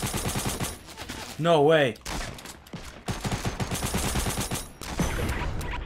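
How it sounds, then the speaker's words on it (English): Gunfire from the video game Fortnite Battle Royale crackles in rapid bursts among close, excited voices, with a loud swell near the start and further shots scattered through the talk. "Who are you shooting at?"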